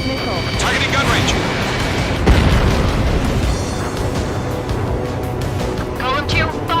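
Missile explosions and deep booms from the aerial combat video game Ace Combat 7, a loud, dense rumble with bursts and jet noise layered under radio-style voices.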